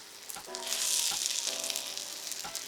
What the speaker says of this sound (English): You can see it sort of sizzling around the edges there.